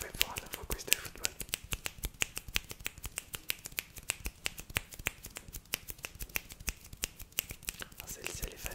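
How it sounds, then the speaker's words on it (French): Rapid, crisp finger snaps repeat in a steady rhythm, close and dry in an intimate ASMR setting, continuing unbroken throughout. "je ferai mon claquement de doigts pendant 10-15 secondes, le temps que vous réfléchissez"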